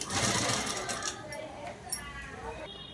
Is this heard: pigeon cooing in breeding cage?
no